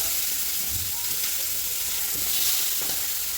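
Chicken liver fries in hot oil for a Tunisian kaftaji, giving a dense, even sizzle and hiss close by, with a few soft knocks and stirs underneath.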